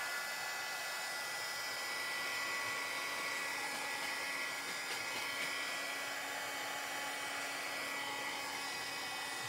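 A heat tool blows steadily to dry a chalk paste transfer on a hanging banner, a continuous close whooshing hiss with even loudness throughout and no talk.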